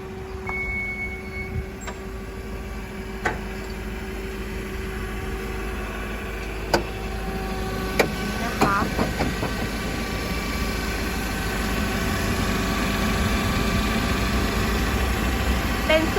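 A Toyota 02-8FG20 forklift's LPG-fuelled petrol engine idles with a low, even rumble throughout, a few faint clicks and ticks over it, no voices.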